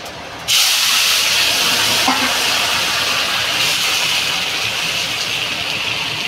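Curry poured into a hot pan holding fish sets off a sudden, loud sizzling hiss that stays strong and close for several seconds, fading only slightly.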